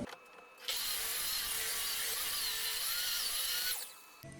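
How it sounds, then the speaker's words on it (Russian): A power saw cuts a wooden board square to 90 degrees for a wooden chest, a steady high whine holding for about three seconds after a sharp start, then stopping, loud and close. "я сейчас отрежу вот эту сторону, чтобы у меня был угол 90 градусов"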